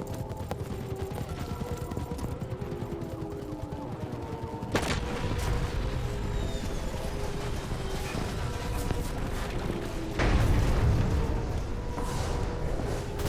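Dense video game gunfire rattles nonstop in the shooter Quantum Error as a rescue aircraft is shot down, with heavier bursts partway through and near the end.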